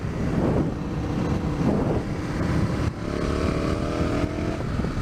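An Aprilia RSV Tuono Gen 1 motorcycle engine drones under load while riding, its pitch rising and falling through gear changes, with steady wind rush over the microphone.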